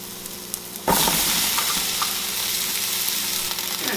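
Vegetables hit a hot pot with garlic and burst into a loud, steady sizzle that carries on evenly after a quieter moment at the start.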